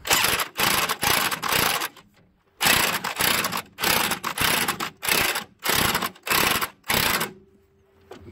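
A wrench ratchets a locking nut down onto a car's front stabilizer link, producing bursts of rapid clicking, about nine strokes with short pauses between, close and loud with no talk.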